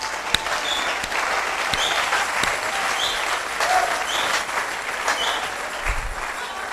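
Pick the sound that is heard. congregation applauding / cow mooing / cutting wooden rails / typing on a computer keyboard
congregation applauding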